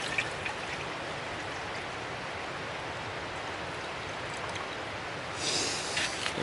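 Water being poured from a bottle at a snowy winter camp with an insulated hammock, a steady soft trickle with a brief louder splash near the end.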